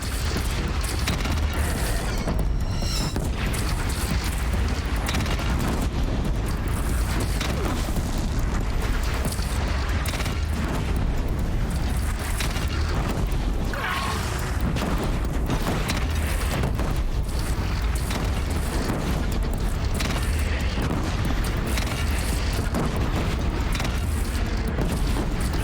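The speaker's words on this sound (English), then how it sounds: "I like this cannon." Cannon fire in Horizon Zero Dawn booms again and again over about twenty-five seconds, loud, heavy blasts stacked over a constant rumbling, mechanical din.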